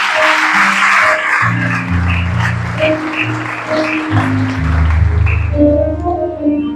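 A church congregation applauds steadily and loudly throughout, with sustained organ or keyboard chords ringing underneath the clapping.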